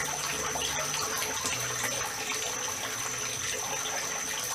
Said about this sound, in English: I like the way the water flows over that big ball when it's full.